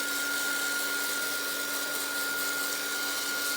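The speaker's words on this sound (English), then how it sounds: "I'm just going to get my heat tool and just dry off the paint." A heat tool blows steadily as it dries paint on painted book page journal cards, giving an even, continuous whirring hiss with a faint tonal whine, close and alone with no talk.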